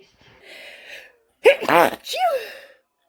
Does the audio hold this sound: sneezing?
yes